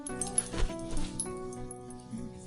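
Two dogs approach, one whimpering and yipping with short high cries and a few sharp bursts over a low steady background hum, close by.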